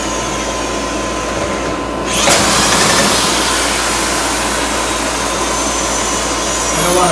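A 1971 Johnson Mate 2 hp outboard motor runs loud and steady, with a sharp jump in intensity partway through as the throttle opens and the engine holds a high, continuous roar to the end.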